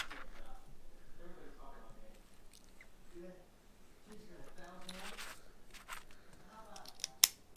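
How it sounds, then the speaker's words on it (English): Scissors snip through gasket material in a series of quiet, crisp cuts, with soft rustling and a couple of sharp clicks near the end, while someone talks. "So now we'll just cut that out with some scissors"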